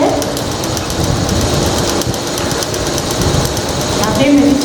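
A sewing machine stitches fabric in a basic tailoring lesson, giving a steady, dense mechanical clatter that continues at an even rate for several seconds, with faint talk in the background.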